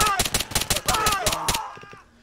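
Rapid gunfire in the Arma 3 video game during a Halloween operation rattles off as a fast burst of close, sharp shots for about a second and a half, then fades, with voices talking underneath.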